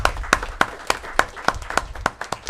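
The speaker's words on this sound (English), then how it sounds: "I'm going to give her a little round of applause" A small round of applause at a city council meeting, a few people clapping in sharp, fairly regular claps, quiet and brief with no talk.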